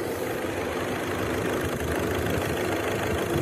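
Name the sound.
VW diesel car engine idling smoothly without knocking or misfire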